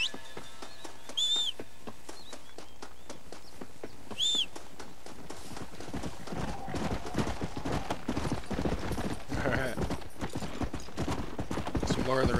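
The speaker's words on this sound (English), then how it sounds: "I thought that was a good horse." Horse hooves clip-clop in a steady trotting rhythm in the Red Dead Redemption video game, moderately loud over game ambience with birdsong, growing busier and denser in the second half.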